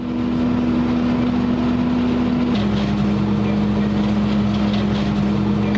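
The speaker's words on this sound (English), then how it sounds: "Jason, let's have a wee look at your tractor and see if you're cutting these hedges straight." Tractor running a hedge cutter in a field, a loud steady engine drone with a sustained low hum that steps slightly down in pitch partway through, continuous and close.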